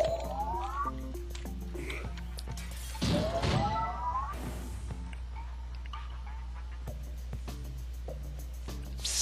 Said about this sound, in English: Ultimately, the breaking of this glass is a necessary evil.